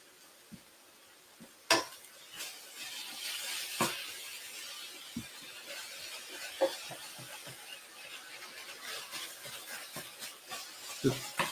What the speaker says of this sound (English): Just want to get all the meat browned off.